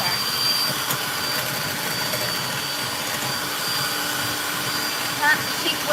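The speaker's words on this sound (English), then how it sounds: "Happens really fast with the hand mixer." An electric hand mixer whipping egg whites and sugar for macarons, a steady continuous whir that holds close and loud throughout.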